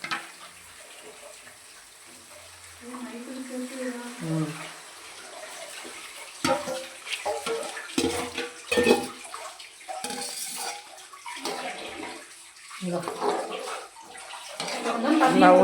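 Water pours into a cooking pan holding sautéed masala, a splashing, trickling stream with clinks of pan and utensils, interspersed with speech in Tamil.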